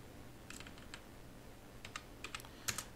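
Short bursts of quick key presses on a Windows PC computer keyboard, soft and close, in a quiet room with brief pauses between bursts.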